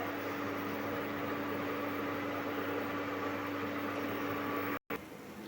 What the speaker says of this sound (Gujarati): બધી પૂરી આપણે અંદર એડ કરી દઈશું તેલની અંદર